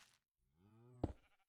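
A single sheep bleats in Minecraft, one short wavering bleat close up, with a brief thump at the end and quiet around it.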